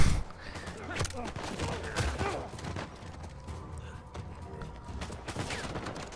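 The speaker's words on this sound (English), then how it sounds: "who's shooting?" Scattered gunfire from the Uncharted 4 video game on crushing difficulty, a fusillade of sharp shots and bursts over game noise, with a voice talking over it.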